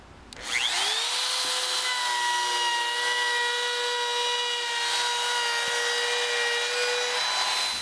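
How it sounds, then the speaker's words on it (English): A router running steadily as it rounds over the bottom edge of a new wooden seat for a wrought iron chair, a high whining motor tone that spins up and holds for several seconds, loud and near, with no voices. "I'm going to start by using the router to put a slight round over on the bottom of the seat."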